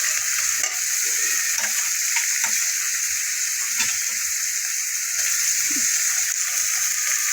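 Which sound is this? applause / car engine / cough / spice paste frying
spice paste frying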